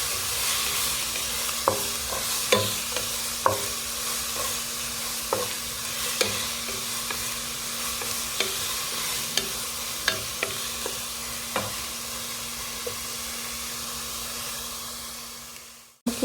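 Ginger garlic sautés in a hot pan, a steady loud sizzle and hiss punctuated by regular taps and scrapes of a spatula stirring, fading away at the end.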